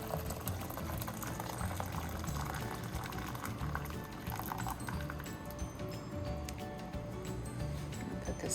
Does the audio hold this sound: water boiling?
yes